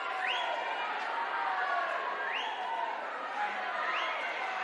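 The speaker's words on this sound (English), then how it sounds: "You can hear the crowd going crazy for these boys" Crowd cheering poolside during the final heat of seated boys' swimming at a Victorian country short course championship, a steady distant roar of voices with a few whistle-like calls rising over it.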